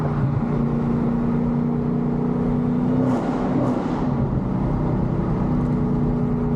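A Hellcat-swapped car engine drones loudly and continuously, its pitch shifting slightly as it revs, with steady mechanical rumble and exhaust popping throughout.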